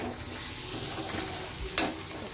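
Eggs and potatoes cooking down with mixed spices in a pan give a steady, fairly quiet sizzle, with one sharp metallic scrape near the end. No one speaks.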